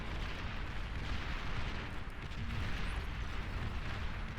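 Rocket bots firing and exploding in the strategy game Beyond All Reason, a dense, continuous rumble of booms and blasts, loud and sustained throughout with no talking.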